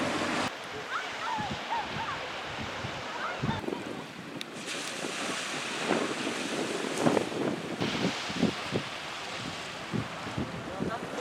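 Waves breaking on the sandy beach at North Berwick under gusting wind, a continuous roar of surf with heavy wind buffeting on the microphone.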